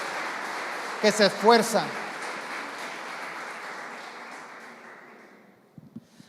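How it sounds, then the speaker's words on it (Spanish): Church congregation applauding during a Spanish-language Christian service, a broad steady wash of clapping lasting several seconds with someone speaking briefly over it near the start, fading gradually toward the end. "vamos a dar un aplauso a los padres"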